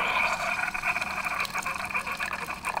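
A Keurig single-serve coffee maker brews with a steady watery gurgle and hiss, liquid streaming continuously at close range.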